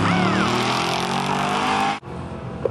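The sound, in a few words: drag race cars launching at Woodburn Dragstrip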